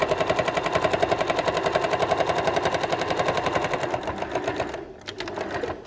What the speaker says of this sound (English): you're sewing through 2 thicknesses of quilt wadding here, so you might find it's a bit slower going.